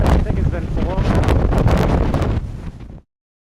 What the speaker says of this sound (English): we're in a pretty big storm here. It's windier than hell